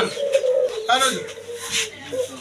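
Kaldom high-flying pigeons coo close by in soft, repeated throaty calls, with someone talking over them.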